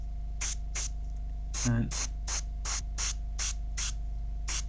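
Airbrush spraying grey paint onto a Games Workshop model, a series of short hissing bursts repeating at a steady pace over a constant low hum, with a brief spoken word partway through.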